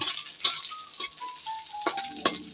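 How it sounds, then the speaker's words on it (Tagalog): Chop suey ingredients sautéing in a pan give a steady sizzle, with stirring scrapes and a few sharp taps of a utensil against the pan. "Gisa muna tayo."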